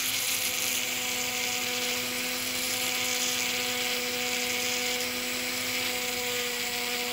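A small high-speed rotary tool sands tiny solder parts with a steady, loud, piercing whine that holds a constant pitch without pause.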